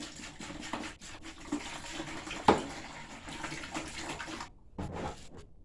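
Rinse water pours and splashes steadily from a gallon container into a laundry tub holding clothes, a continuous sloshing rush with a brief bump partway through.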